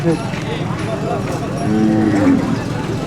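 Bullocks at a weekly village bull market in Kinwat, Nanded, give low drawn-out moos amid steady crowd chatter and the hum of people and livestock nearby.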